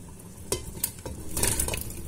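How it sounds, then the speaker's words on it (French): Potatoes tumble into a pot of cooking meat for a Moroccan dish, a few soft thuds and scrapes over a steady low sizzle and stirring clatter, close and moderately loud. "Maintenant, je vais mettre mes pommes de terre."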